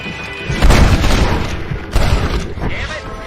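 Gunfire in Red Dead Redemption rings out in a few heavy booming shots with echoing tails, close and loud, amid a busy game soundscape with a voice partly in the mix.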